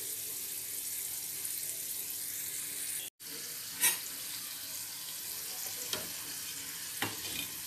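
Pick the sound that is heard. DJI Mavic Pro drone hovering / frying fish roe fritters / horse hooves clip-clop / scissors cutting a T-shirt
frying fish roe fritters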